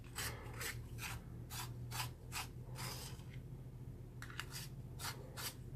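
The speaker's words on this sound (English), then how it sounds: "So I'm going to go ahead and sharpen one more time." A colored pencil turns in a sharpener, a close, rhythmic series of dry scraping grinds repeating about twice per second, with a brief pause midway before the strokes resume.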